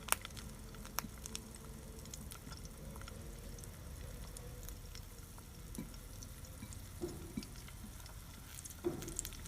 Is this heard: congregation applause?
no